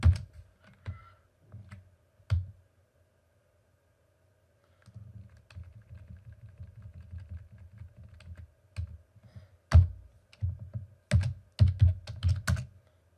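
Someone types a vim command on a computer keyboard. Short bursts of crisp, close key clicks are separated by pauses, with a denser stretch of rapid typing in the middle and a few louder keystrokes near the end.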